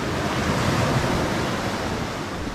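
Surf at Suhuton Beach roars in a continuous wash of breaking waves, with strong water and wind noise filling the whole stretch evenly and no pause.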